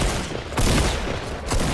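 Loud, close gunfire from a squad match in the Fortnite video game, with two sharp blasts cutting through a harsh, noisy rush of sound, and no talking.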